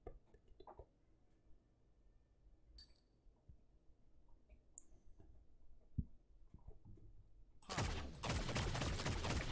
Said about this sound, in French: je tire. Je recharge.